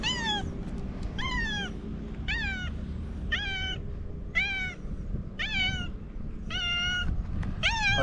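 A cat meows loudly and insistently, about eight clear rising-and-falling meows in a steady, evenly spaced series, close to the microphone, over a low background hum and with no talking.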